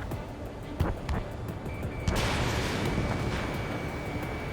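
Missile-hit explosion in the Ace Combat 7 jet combat game, flying an F/A-18E: a sharp pop, then a loud broadband blast at about two seconds that rolls on as a sustained roar over engine noise.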